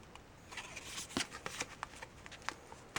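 Small paper tea cards from a gourmet tea subscription box are shuffled and flicked between the fingers, giving a close, soft rustle broken by quick snapping taps.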